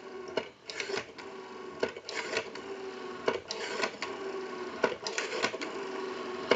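A Western Electric 500 rotary desk telephone under repair is dialed repeatedly, each dial return giving a quick run of close mechanical clicks, with short pauses between spins.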